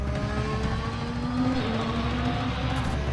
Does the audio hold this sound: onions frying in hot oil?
no